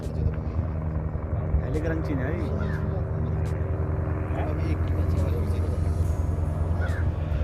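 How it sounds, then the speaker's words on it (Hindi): Helicopter landing at the Gauchar helipad, a steady rotor and engine drone with a low rumble, continuous and moderately loud while someone talks over it. "अभी इस समय पे हेलीकॉप्टर उतर रहा है, लैंड हो रहा है"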